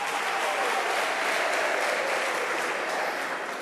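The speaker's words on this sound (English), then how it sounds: "Can we give him a round of applause one more time?" Dense, steady applause from a large crowd at a regional political party council, sustained for the whole stretch as the new mayor-elect is honoured, with no voices over it.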